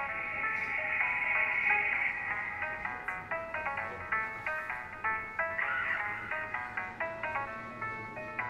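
A phone ringtone plays a bright, repeating melodic pattern of short electronic tones, steady and moderately loud, looping for several seconds with no voices over it.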